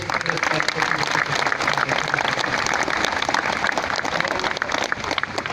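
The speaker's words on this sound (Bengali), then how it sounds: "জোরে একটা হাততালি দিয়ে" An audience at an outdoor meditation gathering of about 2000 people bursts into loud, sustained applause, a dense wash of clapping filling the whole stretch.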